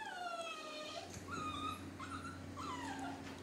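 Puppies whimpering and whining at close range in Papua New Guinea, a steady stream of high, wavering cries that overlap for the whole stretch over a low background hum.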